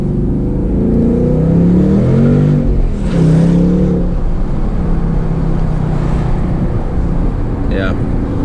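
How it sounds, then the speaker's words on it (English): Stock exhaust on a 2024 Ford Mustang GT with the base six-speed manual, a deep steady engine drone with a few rising revs, heard from inside the car with people talking over it throughout. "it definitely sounds like a Mustang though. I mean, sounds like your standard stock exhaust Mustang,"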